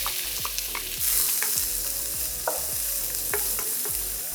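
Onion sautéing with fennel seeds in a pan for a South Indian mushroom pepper fry, a steady close sizzle broken by repeated scraping stirs of a spoon against the pan.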